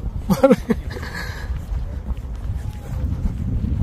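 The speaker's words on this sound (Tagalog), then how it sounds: "Ang hangin lang talaga." Strong, cold wind at the Independence Hall of Korea buffets the microphone with a continuous low rumble. Brief outdoor voices and footsteps are heard near the start.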